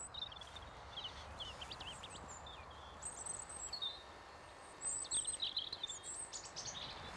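A chaffinch and other small birds sing in a small woodland, giving soft scattered chirps and short trills at a distance over a quiet, steady outdoor background.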